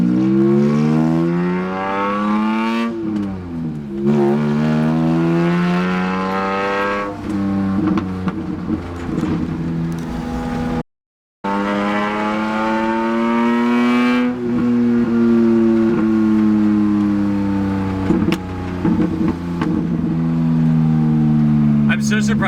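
A BMW M3 GTR engine runs loudly close by, its exhaust droning and rising and falling as it revs, with a brief cut in the middle.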